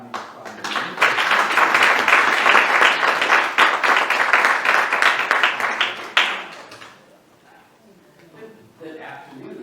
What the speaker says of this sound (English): please give a round of applause for our Dr. Jackson